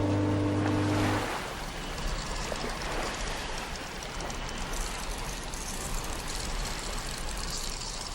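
Surf rolls onto a beach at a full-moon high tide, a steady broadband wash of breaking waves running throughout with a low rumble beneath, moderately loud and continuous with no voices.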